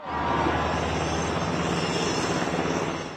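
Steady, loud engine roar of a helicopter overhead, a continuous low rumbling drone that holds evenly throughout with no voices.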